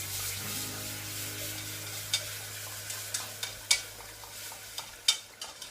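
A whisk works warm milk into a roux in a pan for Welsh rarebit sauce, giving soft scraping strokes and sharp taps over a steady sizzle and a low hum.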